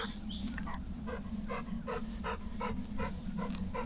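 Happy dogs pant steadily and rhythmically nearby, quick breathy puffs repeating at a fast even pace, faint and close with no talk.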